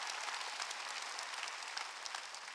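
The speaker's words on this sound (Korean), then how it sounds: "깨달은 사람만 박수 치라고요." A church congregation claps together during a Sunday service, a dense, even wash of many hands that stays fairly far off and steady throughout.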